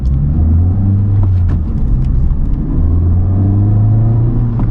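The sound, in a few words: Honda Civic Type R engine running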